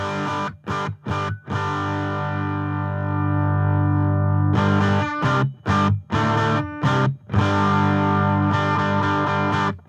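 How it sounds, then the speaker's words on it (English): Harsh, glitchy digital-style distortion from the balanced line out of a Quilter Labs Interblock 45 amp, heard as sustained distorted guitar chords broken by abrupt choppy gaps, loud and close with no talking. "has this very dirty, kind of glitchy kind of sound to it. Almost like digital distortion"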